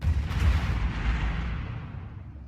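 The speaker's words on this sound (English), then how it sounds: "Explosions. Lots of explosions." Explosions from the space strategy video game Stellaris rumble continuously as a dense, booming roar that slowly fades, with no talk over it.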